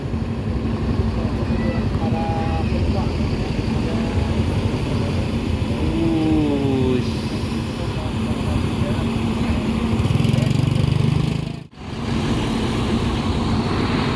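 A bus engine departing an Indonesian bus terminal bound for Bandung, a continuous heavy low motor rumble with busy terminal background and distant voices, swelling briefly near the end before a sudden short dropout.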